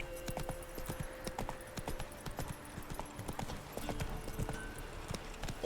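Roach the horse galloping in The Witcher 3, rapid rhythmic hoofbeats pounding continuously and close, with a faint tonal hum of game ambience underneath and no speech.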